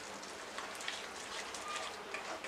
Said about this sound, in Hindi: अब हम इसे अच्छे से भूनेंगे सारे मसालों के साथ